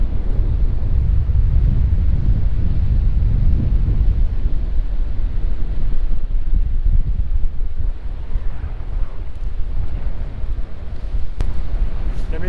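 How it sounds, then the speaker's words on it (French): Strong wind buffets the microphone at Le Havre harbour on a rainy day, a steady low rumbling roar that fills the whole stretch with no letup. "il y a pas mal de vent qui vient de l'ouest là-bas"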